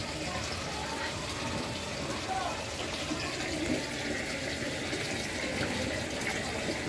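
Water runs steadily during a water change in a tiered freshwater lobster pond, with pond water being drawn back in; a continuous broadband gushing wash holds at an even level throughout with faint background voices.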